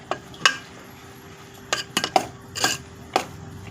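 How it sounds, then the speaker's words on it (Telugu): Milk being stirred into fried bread pieces in a bowl, heard as a few sharp clinks and scrapes of a spoon against the dish, spaced irregularly over a quiet background with no talking. "పాలు ఈ గిన్నెలో పోసుకొని కలుపుకోవాలండి."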